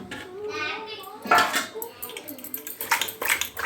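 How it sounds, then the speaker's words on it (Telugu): Chopped onions, green chillies and okra pieces are tossed in a pan, with close clattering and scraping bursts while a voice is heard in the background. "ఇప్పుడు ఇందులో మనం తరిగి పెట్టుకున్న ఉల్లిపాయలు, పచ్చిమిర్చి, బెండకాయ ముక్కల్ని వేసి మళ్ళీ కుదుపుకోవాలి"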